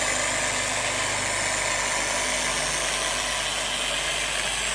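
A rotary polisher runs at its lowest speed setting, spreading polish over the painted body of a Lotus car with a constant loud mechanical whir and no pauses.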